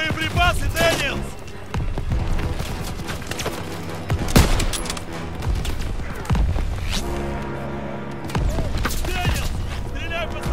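Dense gunfire and explosions in the World War II shooter game Call of Duty: WW2, sustained loud volleys with booms amid a chaotic battle soundscape, voices shouting over the din.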